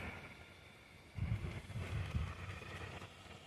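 Strong wind buffets the outdoors around a house where inflatable yard decorations lean over, a steady rushing roar that swells into heavier gusts partway through, with low rumbling microphone buffeting.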